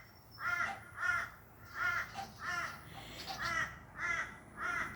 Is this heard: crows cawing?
yes